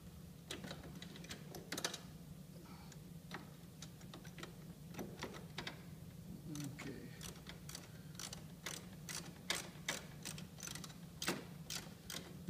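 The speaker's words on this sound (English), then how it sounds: "sometimes it's better if you put your socket on this side and then the wrench on this side" A socket and wrench tighten a bolt on a highway bracket on a Spyder RT, making repeated crisp ratcheting clicks in uneven bursts, close by, with a steady low hum underneath and no talk.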